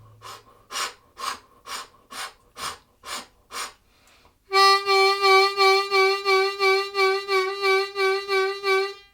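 A harmonica note shaped by stomach-driven vibrato, preceded by a run of short, sharp breaths pulsed from the belly; the sustained tone then swells and wavers rhythmically in pitch and volume, close and loud, with no talking.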